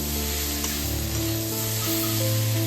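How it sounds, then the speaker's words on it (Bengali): Green banana (kachkola) pieces fry in an uncovered pan on low gas, giving a steady close hiss and faint sizzle with a low burner hum underneath and no voices. "এবার ঢাকা খুলে একটু ভাজা ভাজা করে নেবো।"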